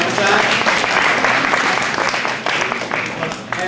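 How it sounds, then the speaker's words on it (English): Audience at a Common Core presentation breaks into a round of applause, dense and steady clapping throughout, fairly loud and close with no talking over it. "A round of applause"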